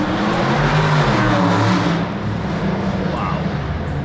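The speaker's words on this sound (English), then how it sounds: "That thing was open exhaust, baby." Loud car with an open exhaust roaring past nearby, a dense engine rumble that peaks in the first two seconds and then fades away.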